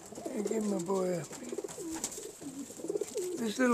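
Yearling pigeons coo and call repeatedly, close and fairly loud, while being fed Spanish peanuts, with someone talking over them.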